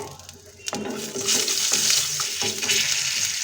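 Whole black peppercorns, black and green cardamom, cloves and cumin seeds roasting in hot oil and ghee, a steady loud sizzle with a few clanks of stirring, close and with no voice.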